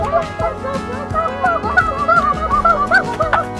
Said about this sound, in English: So I found some chickens in here.